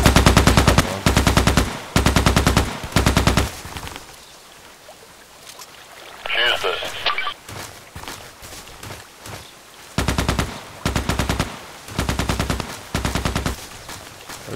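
Rapid automatic gunfire from Contract Wars rattles in loud, close bursts, pausing briefly in the middle before the fast volleys resume and continue to the end.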